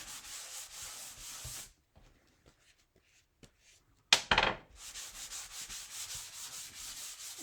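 Wax rubbed onto a wooden farmhouse flag craft project, rhythmic close scrubbing strokes in bursts, broken by a quiet gap with light taps and a sharp knock before the rubbing resumes.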